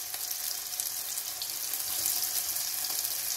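Shrimp frying in a pan with a spicy mix of chopped ingredients, giving a steady, fairly close hiss and sizzle that runs continuously without a pause and with no voices.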